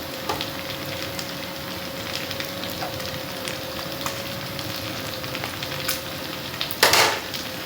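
Minced meat qeema with chopped tomatoes sizzles steadily in a hot pan, a dense crackling fry broken by occasional spoon scrapes and a louder stirring clatter near the end.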